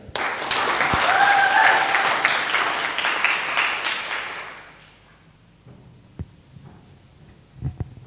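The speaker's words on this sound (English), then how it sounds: "please welcome a warm round of applause for Bianca" Conference audience at MAC Live 2021 gives a warm round of applause that swells for a few seconds, then fades out around the five-second mark into near quiet with a few isolated thumps.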